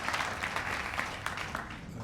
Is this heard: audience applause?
yes